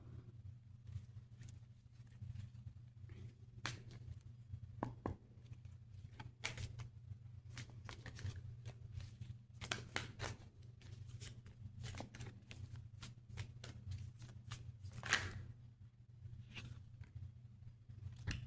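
Tarot cards being shuffled in quiet, intermittent riffles and soft snaps over a low steady background hum.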